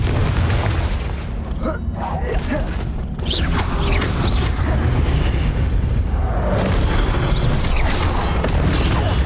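The Confringo blast spell in the Hogwarts Legacy video game, loud booming explosive bursts and mechanical rumbling during a boss fight, dense and continuous with a sharp hit around the middle.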